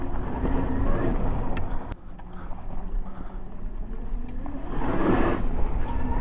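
2023 Zero DS electric motorcycle rolling over gravel, a steady loud broadband crunch and rumble of tires on loose stones with wind noise, swelling again toward the end.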